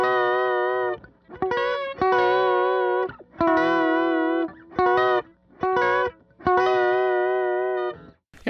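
Worship guitar pedalboard effect played dry with no reverb or delay: a distorted, chorus-like electric guitar tone in repeated strummed bursts with brief gaps, close and fairly loud, no voices.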